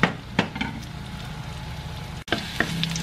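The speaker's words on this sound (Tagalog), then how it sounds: "That's why marami tayong luya na igisa dito." Ginger sautéing in a pan for Filipino kare kare with oxtail, a steady close sizzle with a few sharp clinks of a utensil against the pan and a brief break near the end.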